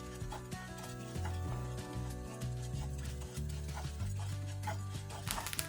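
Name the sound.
rice grains popping while dry-roasting in pan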